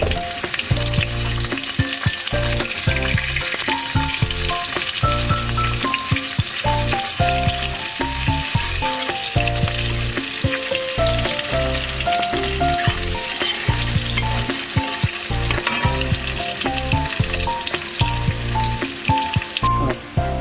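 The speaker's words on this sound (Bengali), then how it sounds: "পেঁয়াজটা দিচ্ছি, কাঁচা লঙ্কা দিচ্ছি" Onion and green chili fry in hot oil in a pan, sizzling loudly and continuously with rhythmic stirring and spatula knocks throughout.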